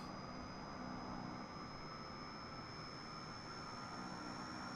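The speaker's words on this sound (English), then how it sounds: "Love the sound of the engines in this aircraft." Airliner jet engines run steadily in a flight simulator, a constant moderate roar with a thin high whine above it, even and unbroken throughout, with no one speaking.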